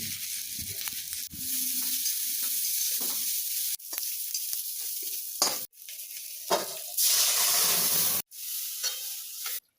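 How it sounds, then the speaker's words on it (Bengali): Chilli and turmeric stirred in hot oil for spinach dal, the sizzle rising loud and hissing as dal is poured in, with scraping stirs and brief pauses between bursts. "লঙ্কা কুচি, হলুদ গুঁড়ো দিয়ে একটু নেড়ে নিয়ে তার মধ্যে ডালটা ঢেলে দিতে হবে"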